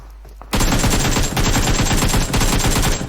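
Sustained, loud bursts of automatic gunfire from a firefight in the video game PUBG Mobile, rapid shots rattling almost continuously for about two and a half seconds with brief dips between volleys.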